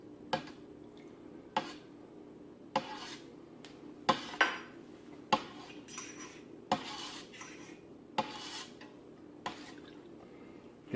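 Spoon clinks against a metal pot at a steady pace while stirring calcium chloride solution into milk for making cheese, with soft swishing of liquid between the sharp taps.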